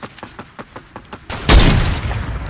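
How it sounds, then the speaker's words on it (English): Sniper rifle shots in the Fortnite video game: a run of quick light taps gives way to a loud, sharp blast with a ringing tail, close and dominant with no talk over it. "We both sniped him at the same."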